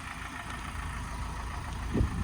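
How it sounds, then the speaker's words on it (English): A Ford Transit refrigerated van idles up close, a steady low engine rumble with a constant hum and no change in pace, a brief knock near the end. "Lovely van, drives nice, engine sounds lovely."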